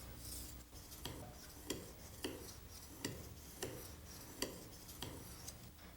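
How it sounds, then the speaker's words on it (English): Plane cutter blade being honed on a fine ceramic sharpening stone, a faint rhythmic scraping with regular strokes roughly every half second, quiet and close with no voices. "I'm now using a medium grade ceramic stone, and I'll finish here on the white fine ceramic stone"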